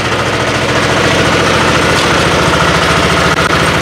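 A small walk-behind tractor engine runs steadily and loudly up close in first gear, a continuous chugging drone with no pauses.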